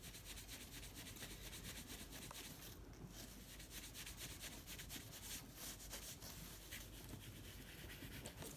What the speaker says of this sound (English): The sanding.